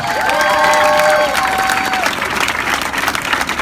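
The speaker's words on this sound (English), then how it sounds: "Give yourselves a round of applause" Dense applause and cheering from a crowd at an outdoor rally against police terror in Durham, loud and sustained throughout, with scattered voices and whistling rising above the roar.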